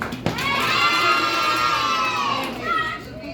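A group of children at a birthday party shout "hey" together in one loud, sustained cry that tapers off, followed by a brief quieter voice.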